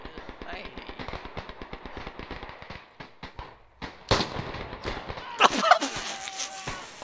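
Video game gunshots crackle in a fast, steady string of snapping reports that slows and thins out. Heavier, louder bursts of fire follow near the end, all at moderate volume with no clear talking.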